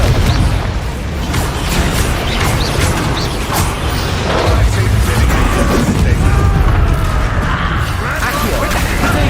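Explosive spell blasts during a Hogwarts Legacy battle, a steady, loud wall of booms, bursts and clattering combat sounds with no clear pauses, with voices mixed in beneath the din.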